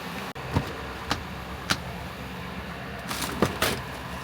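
A diesel Ford F350 truck idles with a steady, fairly quiet low hum, broken by a few faint clicks and taps nearby.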